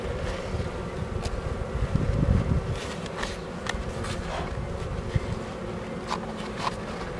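A weak honey bee colony inside an armoured hive hums with a steady, dense buzz, close and continuous, with faint wind rumble and brief louder passes of individual bees.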